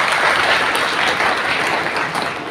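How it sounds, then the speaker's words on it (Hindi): Loud, sustained applause from a church audience for Sunday School children after a Vacation Bible School program, a thick continuous roar of many hands clapping with no break. "इन सब के लिए ताली"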